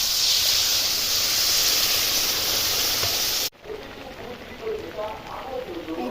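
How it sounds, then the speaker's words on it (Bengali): A loud, steady hiss of water poured into frying snake gourd lasts a few seconds, then cuts off abruptly to a quieter background with a voice. "আমি সবজির মধ্যে জল দিয়ে দিচ্ছি"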